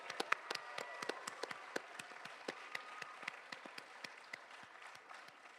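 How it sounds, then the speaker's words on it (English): Audience applause rings out after an Arangetram classical dance recital, a steady patter of many hands clapping with sharp individual claps standing out, moderately distant and without talk. "let's give him another round of applause"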